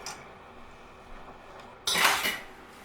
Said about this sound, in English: So I'm going to take the thermometer out